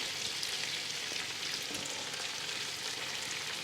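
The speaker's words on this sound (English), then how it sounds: "we can actually go ahead and toss our onions in. And we'll let those get cooking." A pot of onions for French onion soup fries with a steady, even sizzle that carries on throughout, moderately quiet and close, with nobody speaking.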